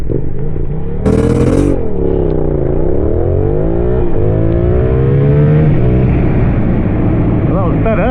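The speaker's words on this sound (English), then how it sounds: "Quite hard to get this bike off the line." A Yamaha R7 motorcycle pulls away from a standstill, its engine loud and close, rising and falling in pitch through rev changes and gear shifts under strong wind buffeting.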